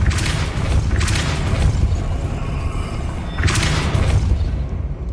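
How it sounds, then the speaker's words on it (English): In Hogwarts Legacy, a spun mechanism raising a platform gives off deep booming, rumbling thuds in two heavy bursts over a continuous grinding rumble, loud and close. "Making this spin ought to raise that platform."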